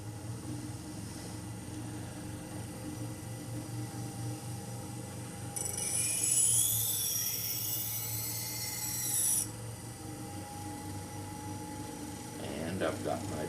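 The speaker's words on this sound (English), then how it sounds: "you're now working on this side of the wheel, and we'll run the wheel in a reverse position" Scissors being sharpened on an Ez-Vex wheel running in reverse, heard as a steady rasping grind with a louder, harsher stretch in the middle, under a constant machine hum.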